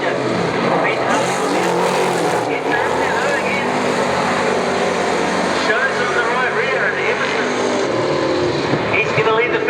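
Super saloon race cars roar around Wellington Speedway, engines droning loudly and continuously as a pack sweeps past, with a commentator talking over the noise.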